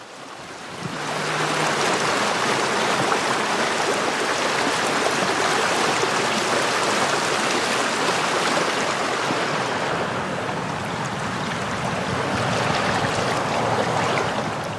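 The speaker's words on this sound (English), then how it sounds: "So I came down to another section of the creek down here." Swollen highland creek after heavy rain, a loud, steady rushing roar of fast water that holds constant for the whole stretch, with broadband wash and some wind buffeting.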